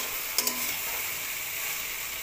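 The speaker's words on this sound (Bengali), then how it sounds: "চলো এবার আরেকটু শাপলাটা লাড়া দিই।" Water lily stems frying in a pan and being stirred, a steady close sizzle with a couple of brief scraping clicks near the start, no voices.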